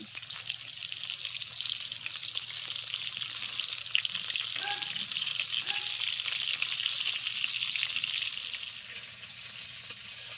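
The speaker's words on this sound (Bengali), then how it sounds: "ঢাকা দিয়ে দু তিন মিনিট ভেজে নেব" Pointed gourd slices for potol posto fry in a pan, giving a steady, close hiss of sizzling oil that runs unbroken for the whole stretch, with faint scattered crackles and no voices.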